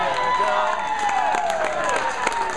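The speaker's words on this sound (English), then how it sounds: "Crowd cheering him on there" A bowling alley crowd cheers and applauds after a big ninth-frame strike at a handicap tournament, a steady wash of clapping and shouts with an announcer talking over it.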